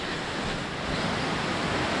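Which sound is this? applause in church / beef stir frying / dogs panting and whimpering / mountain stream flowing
mountain stream flowing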